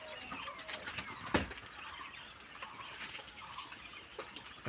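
Sick egg-laying quails in a flock give thin, high chirps and soft clucks over a steady background hiss, with one sharp thump partway through and no one talking.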